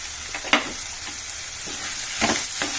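Crushed garlic fries with bitter gourd in a pan for a sesame-powder stir-fry, giving a constant hissing sizzle broken by several sharp scrapes and clinks of stirring, near and without talk.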